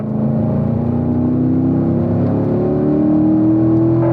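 A Corvette engine on the Spring Mountain race track drones loud and close with a steady, slowly rising pitch as it pulls through a gear.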